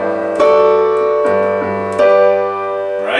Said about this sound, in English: a G pedal tone, which would sound something like this